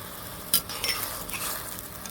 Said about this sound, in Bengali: এখন আমি মশলাটাকে কষিয়ে নেব।